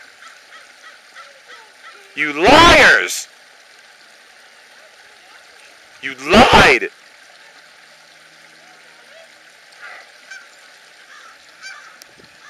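Geese on a frozen river give two loud bursts of honking a few seconds apart, with fainter calls trailing later over a quiet background of trickling water; a person shouts briefly.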